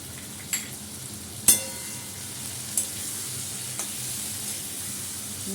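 Turmeric and chili powder fry in a pan for a vegetable curry, giving a soft, low sizzle broken by a few sharp clicks and pops, with no talking.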